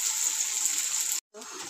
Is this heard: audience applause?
no